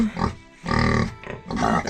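Pigs on a farm in December grunt loudly and close by in several bursts, with short pauses between the rough, throaty calls.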